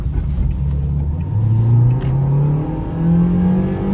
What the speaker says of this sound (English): let's go ahead and take this 2017 Toyota Yaris LE out on the road for a test drive